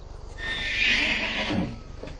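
A horse lets out one loud, drawn-out whinny close by that rises and then fades, with no voices over it.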